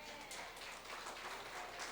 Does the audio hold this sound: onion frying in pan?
no